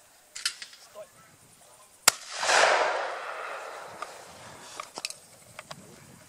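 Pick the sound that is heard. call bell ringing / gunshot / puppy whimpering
gunshot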